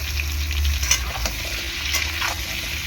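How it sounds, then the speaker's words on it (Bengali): Potato, pumpkin and drumstick vegetables tipped into hot oil with frying shrimp, giving a loud, continuous close sizzle with a few clattering stirs and scrapes of the spatula. "চিংড়ি মাছটা আমার মোটামুটি ভাজা হয়ে গিয়েছে এখন আমি দিয়ে দেবো এই সবজিগুলো"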